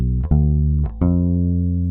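A deep bass G seventh chord rings out, shifting through two quick note attacks before settling into a steady sustained tone.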